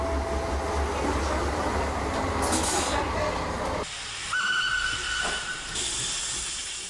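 A French steam locomotive on the Limoges–Eymoutiers line stands waiting while a regional TER train passes, giving a loud continuous hiss of escaping steam; the broad noise cuts abruptly partway through to a thinner, higher hiss.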